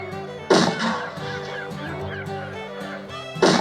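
Shrieking flying creatures, Archaeopteryx in a story soundscape, giving loud goose-like honking squalls that open and close the passage, with fainter overlapping calls between.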